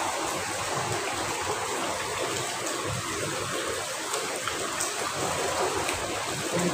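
During heavy typhoon Uwan rain, water leaks and drips through a roof. The downpour makes a dense, steady hiss with the drips mixed into it, continuous and moderately loud, and no one speaks.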